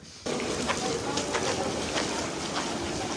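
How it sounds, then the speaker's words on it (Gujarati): Steady light rain patters continuously after a brief quieter start, a soft even hiss with scattered drops, fairly close and without voices, in Dwarka, Gujarat, at Sudama Setu. "દ્વારકામાં હાલ પણ ધીમી ધારે વરસાદ ચાલુ છે"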